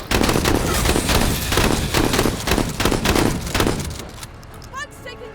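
Squad gunfire in the video game Menace: a dense, loud barrage of overlapping shots rattling continuously for about four seconds, then cutting off into quieter game ambience.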